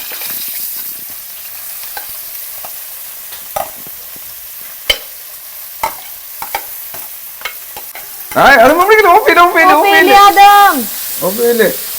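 Sliced onions dropped into a hot pan with curry leaves, starting a loud crackling sizzle after several quiet clinks and taps of stirring, the frying continuing steadily close by to the end.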